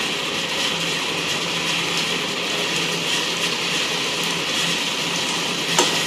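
Small onions sautéing in oil in a pan, a loud steady frying sizzle close up, dense and unbroken, with a brief scrape of a utensil near the end.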